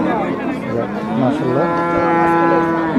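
An Australian-breed dairy cow at a Bangladeshi cattle market lets out a loud, drawn-out moo close by, rising and wavering over about three seconds against faint market background noise.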